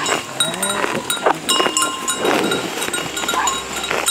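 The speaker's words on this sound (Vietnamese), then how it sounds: "điều khiển ba con trâu mọi người nhé." A herd of water buffalo moves nearby, with scattered animal calls, clanking bells and shuffling over a steady outdoor background at moderate loudness.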